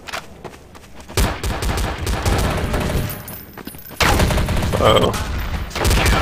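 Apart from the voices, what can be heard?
gunfire in Counter-Strike Source video game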